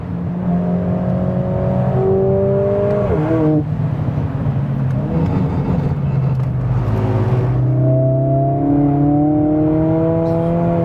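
A 500 bhp Mercedes-AMG A45 S driven on a wet race track, its engine note loud and close inside the car, climbing and dropping with shifts and throttle changes as the all-wheel-drive car slides.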